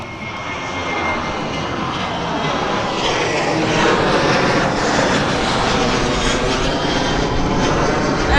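A jet airliner takes off from East Midlands Airport, its engines a loud, steady, broad roar that swells slightly as it climbs and retracts its wheels, heard from a distance with no talk.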